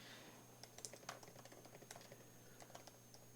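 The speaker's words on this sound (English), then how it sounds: "The furious typing." Rapid, furious typing on a computer keyboard, a quick run of close, crisp key clicks with uneven rhythm over a low steady hum.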